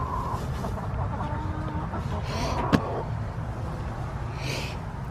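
Laying hens on a homestead cluck softly in the background, a steady low murmur of fowl sounds with one brief sharp tap partway through; no talk.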